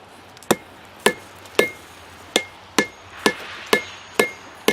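A metal pipe is hammered on an anvil to square it, struck about nine times in a steady, evenly spaced rhythm, each blow loud and close with a bright ringing clang and no speech.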